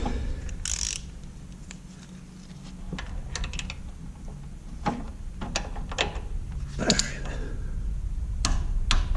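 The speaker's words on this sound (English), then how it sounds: "So we'll go ahead and put 40 on there." Wrench ratcheting on a Katech belt tensioner nut as it is torqued to 40 foot-pounds, a few close clicking strokes over a steady background hum, no talk.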